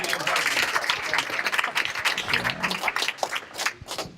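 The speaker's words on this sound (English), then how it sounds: "Let's give another round of applause to in-video impressions." Applause from an audience at a Duke startup showcase event, a steady dense wash of clapping sustained for several seconds, fairly loud and close, with some crowd noise mixed in.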